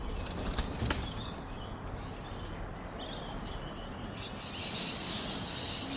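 A racing pigeon flaps in to land outdoors after a 256 km race in bad winds, a sharp burst of wingbeats near the start over steady wind noise and faint distant chirps.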